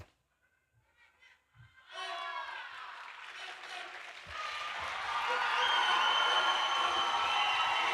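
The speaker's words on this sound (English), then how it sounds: "Crowd is going nuts here, cheering her on" Crowd at a wushu taolu competition breaking into applause and cheers, starting after a near-silent moment and swelling into loud, sustained clapping and shouting that grows fuller toward the end.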